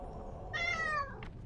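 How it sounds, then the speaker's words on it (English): A cat meows in World of Warcraft Classic: one drawn-out, falling meow over steady game background noise during a raid, followed by a short faint sound. "Aw, kitty."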